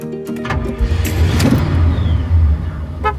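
A car cruising on a road trip, its engine humming steadily up close, with a brief surge in the middle and faint mechanical clicks.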